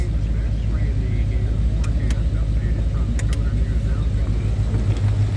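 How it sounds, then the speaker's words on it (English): A big block V8 engine in a 1968 Ford Torino GT Convertible idles with a deep, steady rumble close by, with a few faint clicks partway through. "Let you hear the engine real quick before we shut it down."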